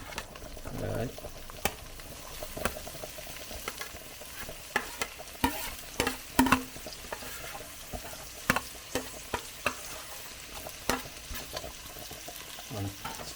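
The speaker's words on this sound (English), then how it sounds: "The saltfish bubble away now" Jamaican curried saltfish and cabbage bubbles and sizzles in a pan while a spoon stirs it. Steady frying noise runs throughout, broken by frequent sharp clinks and scrapes of the utensil against the pan.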